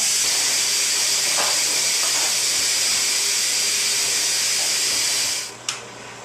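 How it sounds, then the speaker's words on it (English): A pressure cooker on quick release blasts a loud, continuous hiss of steam that fades out near the end, followed by a sharp click. "the quick release, which is, ow, setting it to the pressure release setting"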